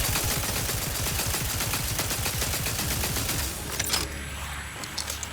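A turret in The Outer Worlds 2 fires a long, rapid burst of loud, evenly spaced gunshots, then falls quiet with a few faint mechanical clicks afterward.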